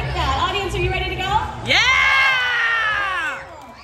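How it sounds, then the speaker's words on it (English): Audience cheering and screaming at a dance competition awards ceremony, loud high-pitched whoops and shouts from many voices, with a sharp rising cheer swelling in midway and then fading. "Keep cheering for these kids"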